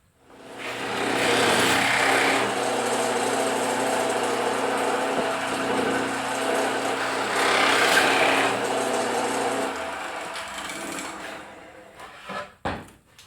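A drill fitted with a Forstner bit bores into wood while a telescope mirror box is being built, giving a steady loud whirring grind for about ten seconds before it winds down into a few faint clunks.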